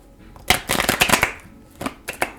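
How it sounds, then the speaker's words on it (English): Tarot cards shuffled in quick riffling bursts, a loud flurry followed by softer snaps and a final short riffle, close to the listener. "This is not the easiest deck in the world to shuffle."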